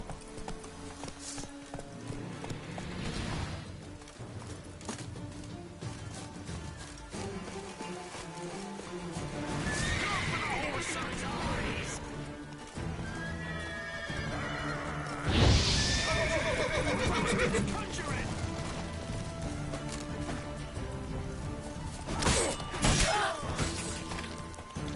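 Roach, the horse in The Witcher 3, neighs and whinnies loudly over clip-clopping hooves, the calls rising sharply twice amid a dense, busy game soundscape with occasional crashes.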